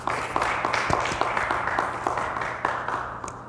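Applause at a forum comes from a modest audience, with scattered, fairly faint claps rattling unevenly for a few seconds.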